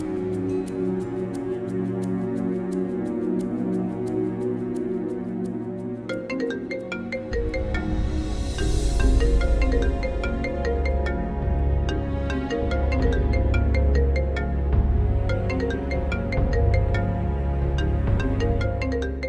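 A melodic phone ringtone plays steadily and fairly loud, a repeating tune with a thumping beat that grows fuller partway through.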